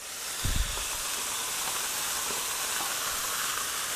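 Raw ground pork sautés in hot oil with a steady, bright sizzling hiss, close and continuous, with a brief low thump and clatter near the start as the meat drops into the pan.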